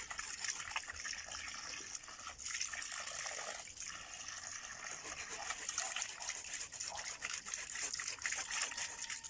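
Water runs along a flooded road, a continuous hissing gush and trickle that stays steady and moderately close throughout, with faint talk in the background.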